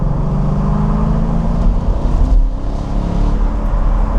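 Steady, loud low engine drone of a Mercedes R172 SLK roadster pulling up to speed along a dual carriageway, with road and wind rumble continuous throughout and no talking.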